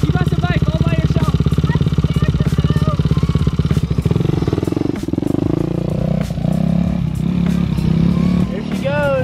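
A dirt bike engine runs with a rapid, pulsing putter close by, then revs as the bike pulls away, while people talk over it.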